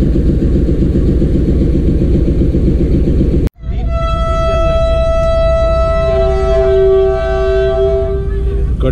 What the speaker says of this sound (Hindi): इंजन जो हैं वो विसलिंग कर रहे हैं